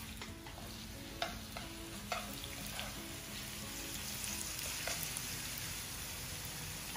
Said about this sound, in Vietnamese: mình cho dầu vô đây là dầu ăn rồi, cái là dầu nó nóng, mình thả khoai vô.